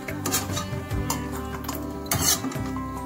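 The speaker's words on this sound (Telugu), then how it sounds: "లైట్ బ్రౌన్ కలర్ వచ్చే వరకు మనం ఫ్రై చేసుకోవాలి." Semolina frying in a pan until light brown, with a spoon scraping and stirring against the metal in repeated strokes over a low sizzle, close and fairly loud.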